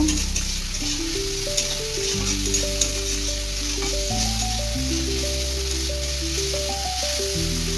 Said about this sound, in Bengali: টমেটো, পেঁয়াজ এবং লঙ্কাগুলোকে খুব ভালোভাবে মিশিয়ে নেব এবং লাল লাল করে ভেজে নেব।